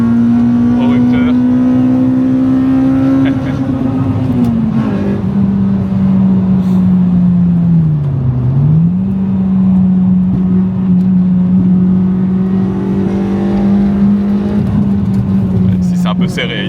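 A Honda Civic EP3 with a K20 engine drones loudly and continuously from inside the car, pitch climbing toward the rev limiter then dropping through gear shifts, with voices talking over it.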